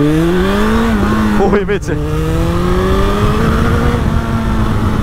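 A 1200cc Suzuki Bandit motorcycle accelerates hard, its loud engine note climbing steadily in pitch, with a short exclamation from a voice partway through.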